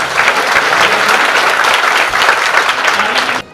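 Children clap together in steady, dense applause at a religious welcome ceremony in Mumbai, a loud, continuous wash of many hands that runs unbroken for a few seconds and then stops abruptly.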